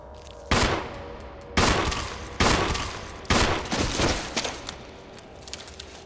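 Video game gunfire: four heavy bursts of rapid automatic shots at roughly one-second intervals, loud and close, each trailing off, followed by fainter scattered pops with no talk.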